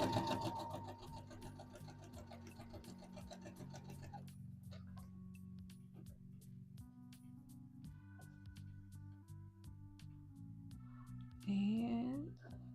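Sewing machine stitching a McCall's M8141 misses' dress, running in steady rapid bursts with short pauses between seams, close and fairly quiet, with a brief louder whir near the end.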